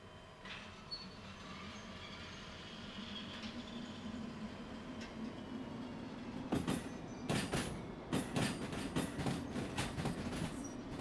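A train in the Derail Valley simulation game rumbles along at low level, steady wheel noise building into a run of rhythmic clickety-clack beats over the rails toward the end.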